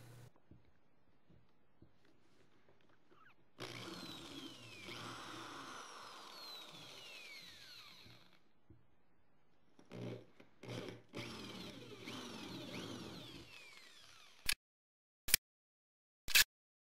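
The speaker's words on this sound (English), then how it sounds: "Now drill on each spot with a 1/4 inch drill bit." Power drill with a 1/4 inch bit drilling wood, whirring in bursts, one longer drilling stretch followed by shorter runs, ending with a few sharp clicks.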